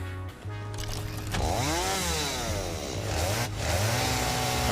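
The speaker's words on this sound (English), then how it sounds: "Chainsaw?" Chainsaw in the video game Satisfactory, a loud, close revving drone that rises and falls in pitch as it cuts, running steadily for several seconds without talk.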